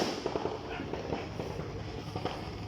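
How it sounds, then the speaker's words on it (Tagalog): Fireworks and firecrackers crackle through a New Year 2024 celebration, with dense, continuous bursts and sharp pops that keep going without a break and no voices on top. "Ganun siya ng fireworks."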